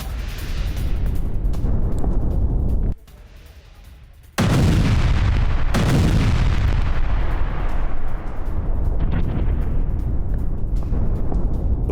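Israeli missile strike in a residential street in Beirut: loud, close roar of the blast followed by rumbling, debris and echoing booms, with a short quieter gap midway before the crashing noise resumes.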